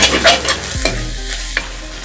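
Spinach cooking in a pan as salt is stirred in, a close, loud sizzle with brisk spoon scrapes and knocks against the pan.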